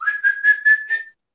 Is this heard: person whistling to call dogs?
yes